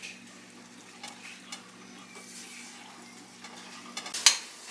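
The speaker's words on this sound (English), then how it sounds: "Give it a good stir." A spoon stirs a cinnamon and blue agave mixture in a pan, giving quiet scraping and light sizzle with a few soft clinks, then a sharper knock of metal against the pan near the end.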